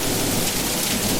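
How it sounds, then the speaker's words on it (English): A fierce desert thunderstorm roars without a break: heavy rain and hail pound the ground, wind gusts hard and thunder rumbles underneath, loud and close with no voices. "Hail, lightning, thunder, wind, cold! Getting everything!"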